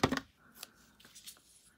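Cardstock being trimmed for a rainbow stripe Valentine card, heard as a few quick close paper-cutting and shuffling strokes at the start, then faint scattered rustles and taps.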